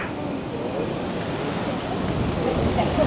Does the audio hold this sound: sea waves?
yes